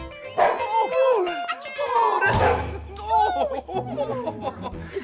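A Chihuahua lets out a rapid string of high, yappy barks and whimpers, mixed with a person's voice and some laughter nearby.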